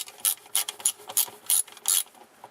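Ratchet tightening the transmission pan bolts on a 1999 Mazda Protege with an automatic transmission: about six crisp, close clicking pulls in a steady rhythm, with no speech.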